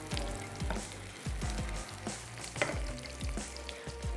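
Slices frying in a pan for a muffaletta sandwich give a steady, moderately close sizzle with a string of low thumps and scrapes as they are moved about.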